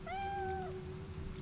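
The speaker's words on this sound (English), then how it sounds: "That's a cat." A single drawn-out cat meow from the video game Divinity Original Sin 2, clear and tonal against a steady low game ambience.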